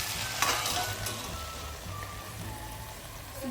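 Mixed vegetables frying with salt in a pan for a Bhogi dish, a continuous even sizzle like light rain, with a couple of faint stirring taps early on.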